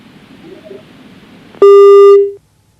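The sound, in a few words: phone line tone as a call drops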